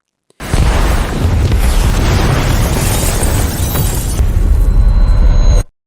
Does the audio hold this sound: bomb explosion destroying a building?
yes